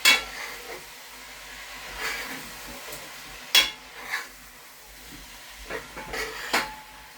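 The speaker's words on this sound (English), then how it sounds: "Let's give this a little stir." Utensil stirring food in a cooking pot in a home kitchen while rice and peas are prepared, with a few scraping clinks spread over several seconds against a quiet background.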